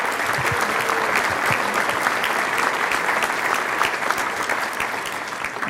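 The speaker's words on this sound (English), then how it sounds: "Would you give these people another round of applause?" Sustained audience applause for Indiana state legislators at a business leaders' event, a dense, steady roar of clapping from a large crowd throughout, with no speech over it.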